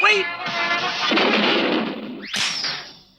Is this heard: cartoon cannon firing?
yes